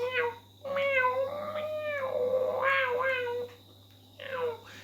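A young kitten shut inside a cat carrier cries repeatedly, loud, close, drawn-out meows coming in three or four bursts with short pauses between them.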